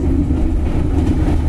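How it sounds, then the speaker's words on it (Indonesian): Bengawan passenger train departing Cikarang station in Indonesia, a steady loud low rumble of wheels on rails with a constant rolling roar throughout and no voices. "naik kereta Bengawan dari stasiun Cikarang"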